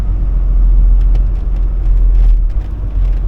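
An old Ford OBS pickup truck with a rebuilt ZF5 transmission drives through mud, a loud, steady low engine rumble with faint splashy crackle and no talk.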